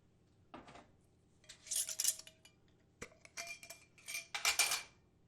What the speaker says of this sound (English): I'm going to put some orange and lavender together in a mason jar.